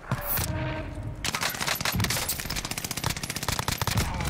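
Rapid automatic gunfire from a Cooper Carbine in a competitive first-person shooter match, a loud, dense stream of shots running for several seconds, preceded by a short burst of other game noise.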